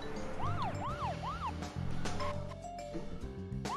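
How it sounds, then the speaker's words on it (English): A wailing police siren in the video game Deadly Premonition rises and falls in repeated sweeps, then cuts off and returns briefly at the end, set against steady engine and driving noise. "did you hear my sirens?"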